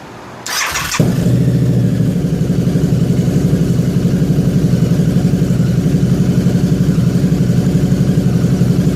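A Harley-Davidson V-Rod motorcycle with a freshly installed performance tuner starts up and settles into a loud, steady, throbbing idle close by, with no one talking.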